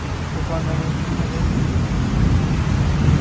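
Loud afternoon rain pours down under a continuous deep rumble of thunder, close and unbroken for the whole stretch.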